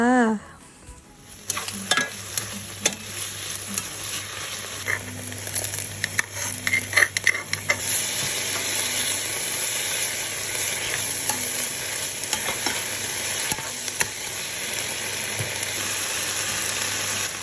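Mixed vegetables are stir-fried in a hot pan. Brisk scraping stir strokes cut through the first seconds, then a loud, continuous sizzle takes over and runs steadily to the end.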